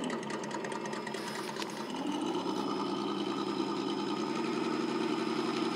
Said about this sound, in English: the Bronco should be able to pull out of here, even though it's idling a little high